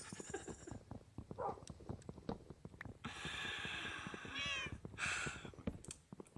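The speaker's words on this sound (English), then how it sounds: "Now y'all can hear the kitty cats. The 3 cats that I have." Three pet cats in Minecraft meow repeatedly, with high drawn-out meows clustered in the second half over a busy background of game noise and footsteps.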